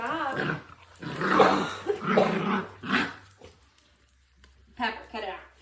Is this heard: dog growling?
yes